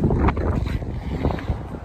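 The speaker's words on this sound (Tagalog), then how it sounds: "Grabe ang hangin dito" Strong wind blasts across the microphone in a continuous heavy rumble, gusting up and down without pause.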